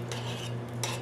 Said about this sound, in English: And I'm going to give that a quick stir.